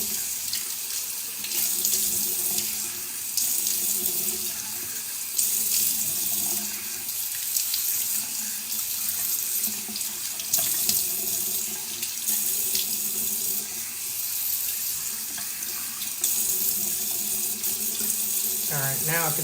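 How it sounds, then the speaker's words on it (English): A tap runs steadily into a sink as water is splashed onto the face to rinse off an exfoliating scrub, a continuous close rushing flow with faint voice in the background. "I like to put the water directly on my face"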